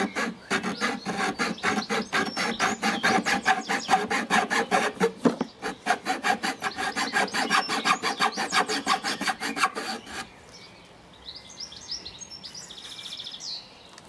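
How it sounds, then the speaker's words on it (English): A hand hacksaw cutting a piece of wood clamped firmly in a vise, a steady run of brisk rasping push-and-pull strokes for about ten seconds, then it stops, leaving faint bird chirps outdoors. "Saw with a pulling and pushing action."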